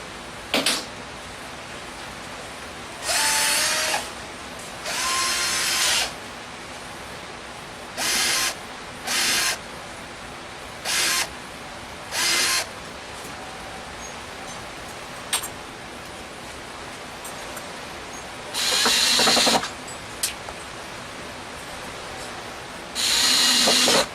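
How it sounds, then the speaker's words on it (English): A cordless power drill fires in short bursts while building a truck storage bin, roughly ten separate whirring runs of a second or two each, separated by quiet pauses, close and fairly loud with no talk. "Let me go grab my other drill."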